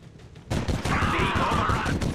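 Dense, loud gunfire from a Warhammer 40k mod of the video game XCOM 2, a rapid fusillade of shots that erupts after a quieter opening and rattles on steadily to the end.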